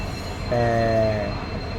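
A train rumbles along the tracks through forest near Shoranur with a steady roar, while a tonal horn-like squeal rises briefly in the middle before fading back into the rumble.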